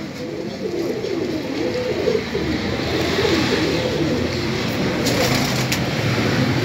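Many pigeons in a pigeon shop coo together in low, overlapping warbles, a continuous close chorus over a steady background hum.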